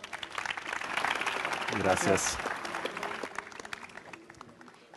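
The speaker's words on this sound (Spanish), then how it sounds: "Otro aplauso, por favor." Audience applause after a digital design workshop swells into a loud crowd burst midway, then fades, while a voice speaks briefly over the clapping.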